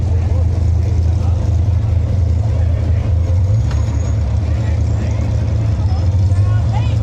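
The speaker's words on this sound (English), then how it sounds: "And you guys can hear all the trucks running." Off-road race trucks run at the Mint 400 desert race, and their loud engines make a continuous low rumble and drone that fills the whole stretch.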